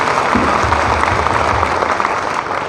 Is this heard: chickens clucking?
no